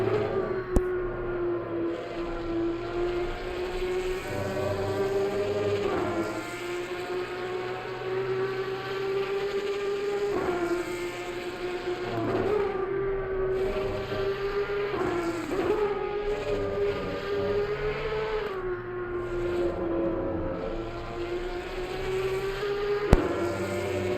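A Porsche race car engine in the racing game Assetto Corsa Competizione, a steady droning buzz that rises and falls gently with throttle over about twenty-four seconds, moderately loud with no talk.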